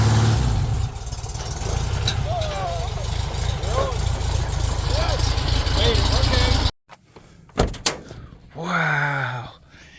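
A 1972 Porsche 914 with an air-cooled engine drives along with a steady mid-pitched drone while people talk over it, then the engine cuts out abruptly, leaving clunks and more speech.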